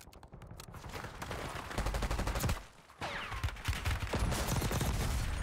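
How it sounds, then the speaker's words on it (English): Gunfire in Call of Duty BO6 Warzone at Area 99, rapid bursts of automatic fire from several directions with sharp cracks and a brief lull midway, loud and close, with no talking. "I'm getting shot from 30 different people, bro"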